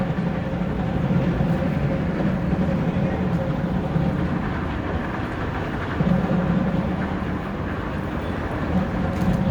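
A train rolls along the tracks on Washington Street in downtown Chicago, producing a loud, steady rumble that fills the whole stretch nearby, with faint city noise around it.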